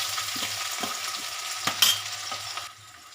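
Ginger garlic paste sizzles and fries steadily in a hot pan for a paneer gravy, a continuous close hiss broken by a few soft stirring scrapes before it quietens near the end.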